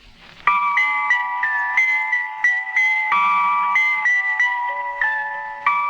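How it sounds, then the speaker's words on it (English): Radio Switzerland's interval signal from a 1960 broadcast, a short melodic phrase of bright bell-like or music-box tones in a steady sequence of held notes, clear and alone. "That is the sound of Radio Switzerland."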